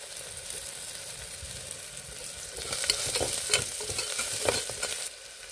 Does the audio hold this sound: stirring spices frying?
yes